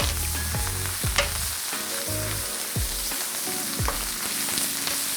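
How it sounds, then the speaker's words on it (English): Garlic sizzles and fries in a hot pan beside a ribeye steak, giving a steady loud crackle with repeated sharp scraping stirs and tosses throughout, and no voices. "And now we can toss that garlic up in there."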